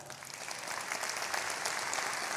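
A crowd applauds steadily at a live show, a dense even wash of clapping holding at moderate loudness throughout with no voices on top.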